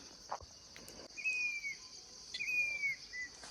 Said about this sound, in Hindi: एक चिड़िया की आवाज़ सुनाती हूँ गाइस आपको,